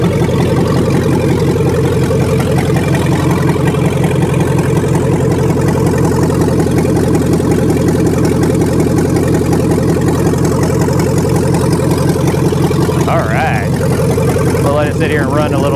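A car engine idles on its stock exhaust, a loud, steady, throbbing rumble that runs on without pause, with faint sounds appearing briefly near the end.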